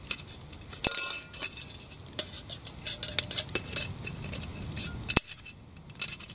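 Metal camping stove parts and a burner are handled and fitted together up close, producing light clinks, taps and rattles in an irregular rhythm with a couple of sharper knocks.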